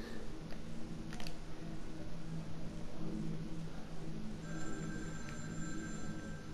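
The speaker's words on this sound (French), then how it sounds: "Ah, le téléphone." In the video game The Evil Within 2, a telephone rings faintly in repeated bursts over a low, murky ambient background, with no voices.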